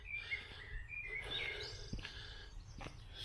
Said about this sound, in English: I can definitely hear a blackbird there